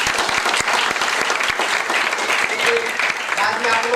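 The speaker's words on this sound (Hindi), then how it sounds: "सर के लिए ताली बजाइए" A workshop audience applauds a guest with a sustained round of clapping, sharp individual claps standing out up front while a voice speaks faintly underneath.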